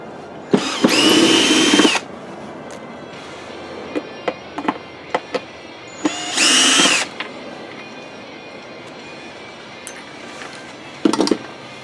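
A power drill backs screws out of a microwave oven transformer being rewound, with two loud whirring bursts of about a second each. Sharp metallic clicks and taps sit between them, and a brief final burst comes at the end.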